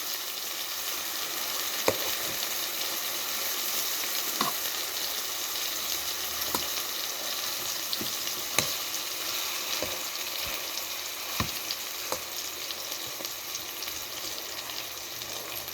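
Sausage patties fry in an electric skillet, browning and crisping under a constant loud sizzle with scattered sharp pops and spatters, close up and without talk.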